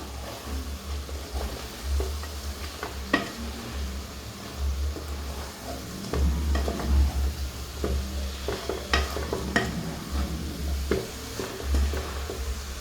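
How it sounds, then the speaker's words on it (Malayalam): Chicken chukka with fried onions being stirred and fried in a pan, a continuous low sizzle punctuated by irregular scraping and clinking of a spoon against the pan, close and steady. "നമുക്ക് നല്ലോണം ഒന്ന് മിക്സ് ചെയ്ത് കൊടുക്കാം"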